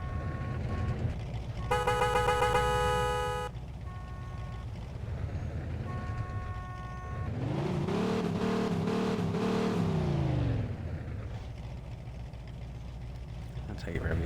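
A car engine in Mafia II Definitive Edition revs once, its pitch climbing, holding, then falling away over a few seconds, after a stretch of bright electronic beeping tones.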